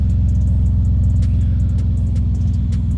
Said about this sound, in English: the exhaust is pretty obnoxious at those speeds